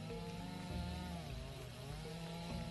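A chainsaw from the video game Dinkum runs continuously and loudly, with a steady buzzing drone and slight pitch shifts throughout.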